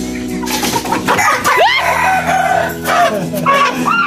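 Capon chickens and other fowl cluck and call in a busy, close flock with several overlapping bird voices and rising squawks, steady throughout.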